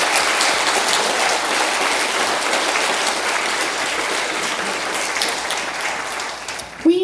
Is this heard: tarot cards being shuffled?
no